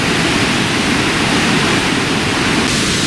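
Massive water plunges over Devil's Cataract at Victoria Falls in a loud, constant thundering hiss, steady and enveloping from a nearby viewpoint, without any speech.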